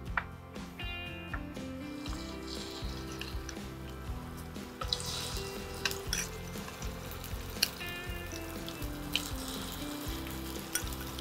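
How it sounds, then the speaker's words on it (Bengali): Shrimp fry in a pan for a spicy pumpkin and shrimp mash, with a steady close sizzle, watery spatter and occasional stirring clinks running throughout, no voices heard. "তো হালকা করে ভাজবে তাই তো চিংড়িটা?"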